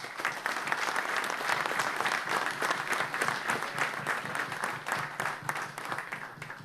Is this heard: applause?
yes